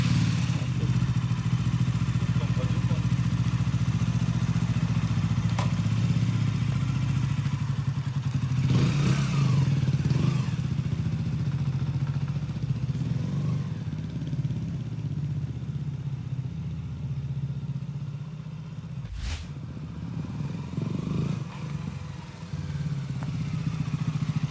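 Motorcycle engine with 21,000 km on it idling with a steady low drone, rising in a couple of revs and fading slightly, with a thud near the end and no talking.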